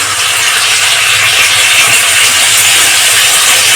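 Water splashed into a hot tempering of chillies and curry leaves in oil gives a loud, steady hissing sizzle that fills the whole stretch, with no talking.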